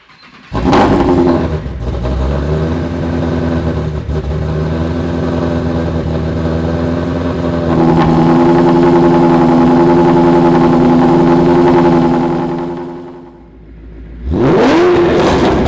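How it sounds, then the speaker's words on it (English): A Ford Mustang Shelby GT350 fires up from cold, its engine catching with a loud burst, settling into a steady rumbling idle, rising in a held rev, dipping briefly, then surging loudly again near the end. "let's go ahead and get that cold start"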